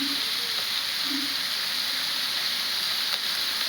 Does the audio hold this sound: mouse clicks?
no